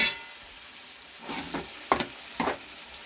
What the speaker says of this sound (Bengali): কষে বাঁধাকপিটা এবার দিয়ে দেবো এর মধ্যে